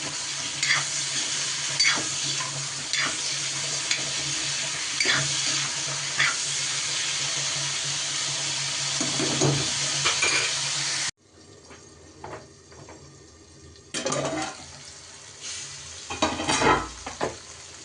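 Something being fried and stirred in a pan, a steady dense sizzle with repeated spoon scrapes and knocks, close up; after a cut the sizzle drops away, leaving quieter scraping and clinks.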